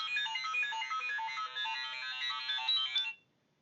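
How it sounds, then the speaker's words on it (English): A phone ringtone plays a bright, repeating electronic melody for about three seconds, fairly clear and alone, then cuts off abruptly into near silence. "I'm just going to try to make sure that phone isn't going to go off again"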